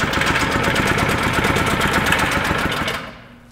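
A restored Honda diesel engine driving a rock crusher runs loud and steady with a dense chugging rumble, close up, then cuts off and falls quiet near the end.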